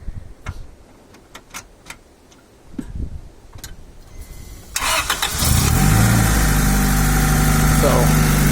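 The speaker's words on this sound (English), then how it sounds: "I'll show you this thing running and starting up" A green Honda Del Sol with a D16Z6 engine starting up: first some quiet ticks and clicks, then the starter cranks and the engine catches and settles into a loud, steady idle. Speech is faint early on.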